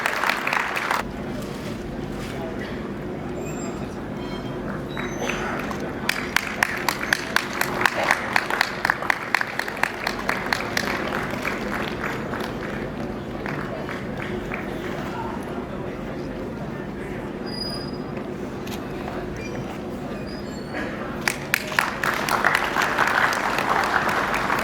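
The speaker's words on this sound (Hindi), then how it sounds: "जोरदार तालियों से स्वागत कीजिए।" An audience at a national convention opening welcomes the governor with applause that swells into loud, rhythmic clapping, recedes, then rises again toward the end, with voices mixed in.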